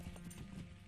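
Horse hooves clip-clop at a steady trot in the video game Lord of the Rings Online, quiet, evenly spaced footfalls over a faint background.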